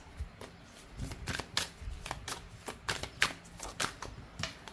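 Tarot cards shuffled by hand and drawn for a reading, a close, steady run of soft riffling slaps and flicks with no talking over them.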